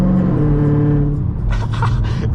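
1000-horsepower Dodge Challenger Hellcat Redeye driving at 3 AM, a loud, steady low engine drone with harmonic rumble throughout, joined near the end by bursts of hissy broadband noise.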